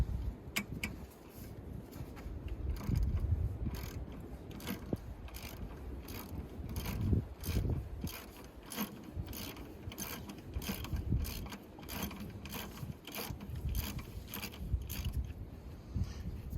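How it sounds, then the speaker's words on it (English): A ratchet fitted with a 12 mm socket loosens an oil filler cap on farm machinery, producing rapid, repeated mechanical clicking in quick bursts, close and fairly loud, with no talking. "Take it off with the 12 millimeter socket."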